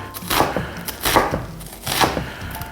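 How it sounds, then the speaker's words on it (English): A knife chops straight down through an onion on a cutting board, a series of loud, close wooden thunks falling in quick bursts of several strokes. "and you just cut straight down"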